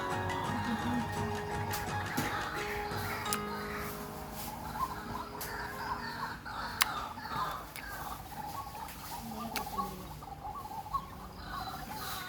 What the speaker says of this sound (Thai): หลังนกเป็ดน้ำนะครับทะเลาะกันหลายคู่เลยครับ